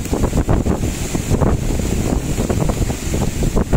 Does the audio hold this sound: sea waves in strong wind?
yes